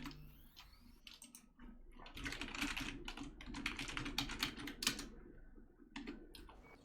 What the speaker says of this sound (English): You could hear my typing.